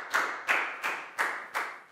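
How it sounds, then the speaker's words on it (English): A Year 4 math class claps for a classmate: five slow, evenly spaced hand claps, close and fairly quiet, like one child or a few hands clapping in unison. "High five and a big round of applause for Pat, please, guys."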